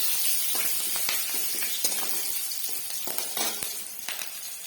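Garlic leaves and green chillies fry in a hot pan with a steady, close sizzle, broken by scattered crackles and small pops throughout.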